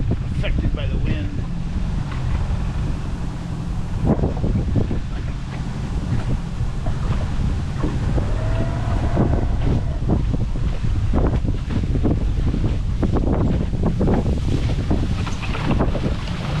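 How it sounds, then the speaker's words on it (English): Strong wind whips across a lake in Winter Park, Florida, roaring steadily against the microphone aboard a small boat with a repaired engine, with choppy gusts and water noise throughout and someone talking intermittently over it. "with the wind just whipping across the lake."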